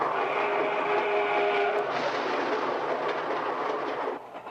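A train rolls along the rails with a continuous, loud broadband roar and faint rhythmic clatter, steady throughout before easing slightly at the very end, with no voices.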